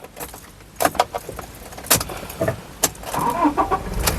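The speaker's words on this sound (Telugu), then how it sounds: "ఈ కారు సింగిల్ సెల్ఫ్లో స్టార్ట్ అవుతుందా లేదా అన్న చూపిస్తున్నాను చూడొచ్చండి" A 2018/19 Toyota Innova Crysta 2.4 G is started from inside the cabin: sharp clicks and a key jingle come first, then the engine cranks once and settles into a steady, close idle.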